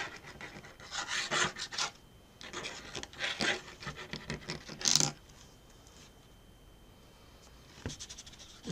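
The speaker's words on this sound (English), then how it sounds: "So what I may do is just add some sgraffito to this," Layered paint on a small abstract painting is scratched with a tool in sgraffito, giving faint, close rasping scrapes in short bursts separated by quiet gaps.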